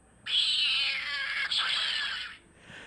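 Recorded cats meowing in a long, drawn-out, high caterwauling cry that runs for a couple of seconds and ends with a shorter, fainter mew, played alone and fairly loud.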